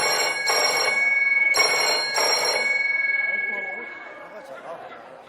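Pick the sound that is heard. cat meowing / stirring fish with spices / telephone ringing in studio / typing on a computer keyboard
telephone ringing in studio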